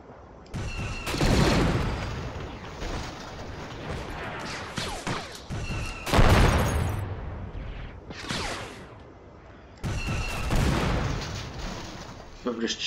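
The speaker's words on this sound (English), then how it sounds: "I'm just shooting at this and not getting kills." Battle gunfire and heavy booming blasts from the strategy game Men of War: Assault Squad 2 come in loud surging waves with quieter stretches between, and a voice talks throughout.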